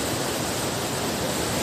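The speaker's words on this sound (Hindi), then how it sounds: "ये पानी आपको बहता हुआ नज़र आ रहा होगा" Water of the Ganga Canal at Roorkee rushes across a bridge over the Solani River in a dense, steady roar, close and loud with no pauses.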